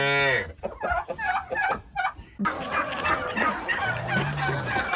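Poultry in a barn shared with calves: turkey-like gobbling and clucking calls come close and loud, followed by a busier mix of farmyard bird chatter.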